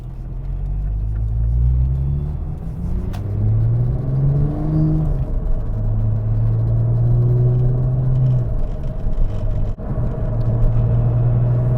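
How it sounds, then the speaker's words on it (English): Car engine rumbling at low revs in a high gear, its deep drone shifting in pitch with a faint rattle running through it, heard steadily from inside the cabin with no talking. "If you're in a high gear and you've got it on low revs, you can kind of hear this rattle"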